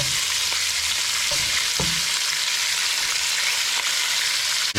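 Salted oxtail pieces sizzle steadily as they brown in a pan with bits of beef fat, a dense, continuous frying crackle close by with a few sharper pops and no talking.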